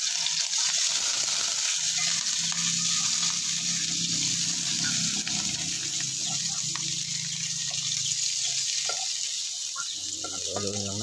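Onions hit hot oil for ginataang labong with shrimp, giving a steady wash of frying sizzle and sputter that runs throughout, with kitchen clatter and stirring near the end.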